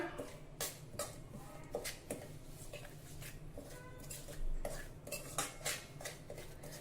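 Grated raw mango pickle mixed with salt in a bowl, a spoon scraping and clinking against the sides in quick uneven strokes, close and fairly quiet with no voices.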